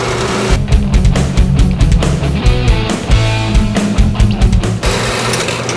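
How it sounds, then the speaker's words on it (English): A power tool cuts down the inner metal sleeve of an engine mount bushing for a turbo Colt Vista wagon build: a loud, close, continuous grinding whine with stuttering pulses and no voices. "Now we're gonna cut the inner sleeve down."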